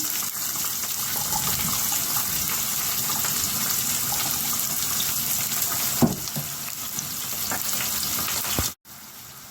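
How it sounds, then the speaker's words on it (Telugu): Chopped onion pieces go into a hot pan of oil for a home-cooked dish, and a steady, close sizzling hiss continues throughout, with a small clatter and then a sudden cut near the end. "ఇప్పుడు కోసి పెట్టుకున్న ఉల్లిపాయ ముక్కలు వేస్తున్నాను"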